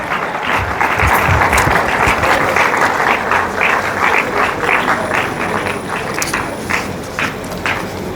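Audience at a University of Calabar 50th anniversary colloquium breaking into loud, sustained applause, many hands clapping in a thick wash that slowly eases toward the end.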